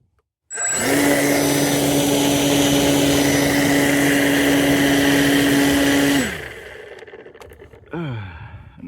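The electric motor of a large RC warbird whines loudly and evenly for several seconds at steady throttle, then winds down abruptly, followed by a brief rising spin-up.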